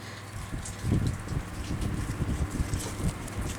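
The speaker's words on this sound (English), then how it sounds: "It's cool and raining, and it's nice." Rain falls in a steady, soft patter with a low rumble underneath, continuous and moderately quiet with no one speaking.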